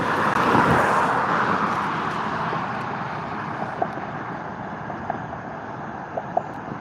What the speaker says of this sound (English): There went a Murray County Sheriff's vehicle.